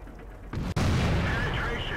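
A tank cannon in World of Tanks fires a single heavy, booming blast, then a sustained broad rumble of battle noise.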